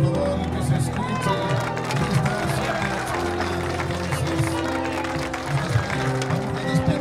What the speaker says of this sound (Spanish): el aplauso por favor que se escuche